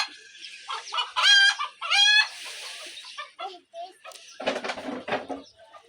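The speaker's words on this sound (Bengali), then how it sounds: "ছাদের উপরে মুরগি পালে" Chickens kept on a rooftop in the city, with two loud rooster crows close by followed by fainter clucking and farmyard chatter.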